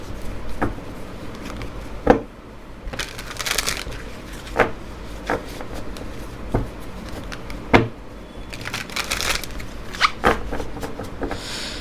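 A tarot card deck is shuffled close up, giving repeated papery riffles and soft slaps in uneven bursts, with no voices.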